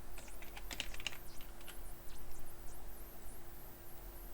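Light clicking keystrokes on a computer keyboard, a short run of close, quiet taps with a couple of sharper key presses, heard alone over a faint steady hum.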